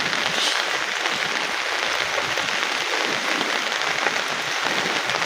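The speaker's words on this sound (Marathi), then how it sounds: "पाऊस पण चांगला लागतोय" Rain falling steadily in a rural Konkan setting, a dense even hiss of drops on surfaces lasting the whole stretch, with no voices.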